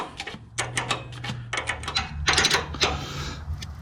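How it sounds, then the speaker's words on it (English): Ratcheting clicks and metallic clatter from a wrench tightening a nut on a new JKS adjustable rear sway bar link of a Jeep JK, in quick irregular bursts close to the mic. "This is new, so I'm able to tighten this with one wrench."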